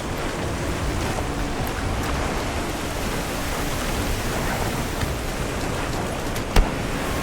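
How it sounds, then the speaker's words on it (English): Heavy downpour of rain in the video game Monster Hunter Wilds, a steady dense broadband wash that stays loud and even throughout, with one brief sharp knock near the end. "A downpour like this could have an effect on the monsters."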